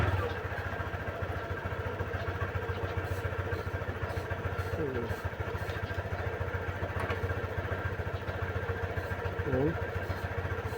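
A Honda Click scooter engine idles steadily after failing to start following a car wash, a close low continuous hum with faint clatter, and a voice speaks briefly over it.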